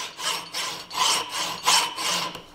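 A hacksaw cuts through metal in a blacksmithing demonstration, producing rhythmic rasping back-and-forth strokes, about five strokes in quick, steady succession, close and fairly loud with no voices.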